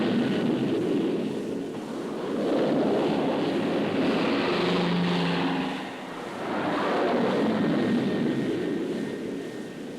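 Aircraft engines roar aboard an aircraft carrier at sea, a loud droning that swells, dips around the middle and rises again, as if planes are passing close by, with no speech over it.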